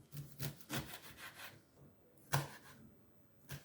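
A knife cuts repeatedly through uziza leaves on a board, a series of soft rhythmic slicing strokes, close and quiet.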